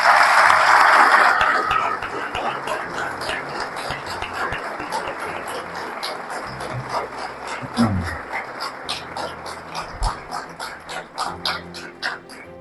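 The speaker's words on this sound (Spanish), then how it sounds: "por favor les demos un merecido aplauso." Audience applause at a university lecture, a dense wash of many hands clapping that is loud at first, then thins into scattered claps with a faint voice and low knocks underneath.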